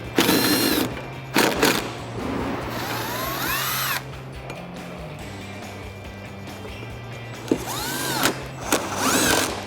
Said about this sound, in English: it's a T30 Torx bit. We can go ahead and tighten this up right now.